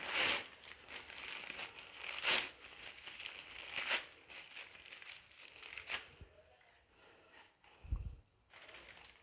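Waste newspaper being crumpled and crinkled by hand up close in a home kitchen, several bursts of crackly paper noise with short pauses between them.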